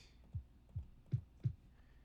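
Four soft, low kick drum sample thumps in FL Studio land at an even pace, the last two slightly punchier, with quiet pauses between.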